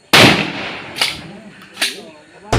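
Gunfire at a security guard firing range: a loud close shot, followed by two further sharp reports and a fourth at the end, with faint voices between.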